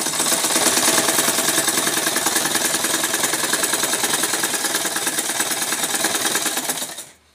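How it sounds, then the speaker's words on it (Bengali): A sewing machine stitches fabric in one continuous loud, close run of rapid rhythmic mechanical clatter lasting several seconds before stopping. "তারপরে সেলাই মেরে নিচ্ছি"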